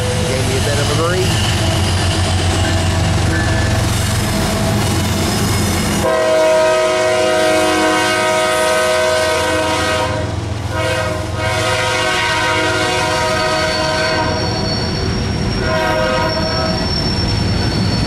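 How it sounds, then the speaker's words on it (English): A long CSX mixed freight train led by two ES44AH locomotives rumbles past with a loud, sustained horn blast partway through, steady rolling noise throughout. "L648 is a markedly longer train than the last several"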